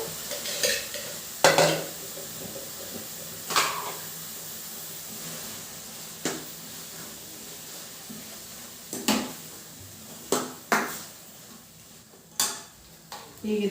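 Cooked green gram being stirred in a frying pan over a low sizzle, with scattered sharp scrapes and clinks of a spoon against the pan coming in irregular bursts.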